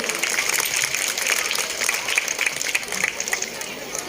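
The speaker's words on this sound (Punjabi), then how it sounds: "ਤਾੜੀਆਂ ਨਾਲ ਆਓ ਸਵਾਗਤ ਕਰੀਏ" An audience at a Khalsa School prize distribution ceremony welcomes a guest with sustained applause, a dense, even patter of many hands clapping nearby, with faint crowd voices mixed underneath.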